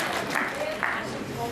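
An audience claps in a dense, continuous patter at a ceremony honouring pledged body donors at RNT Medical College, held by the Jain Jagriti Centre women's wing. The applause is moderately loud and sustained.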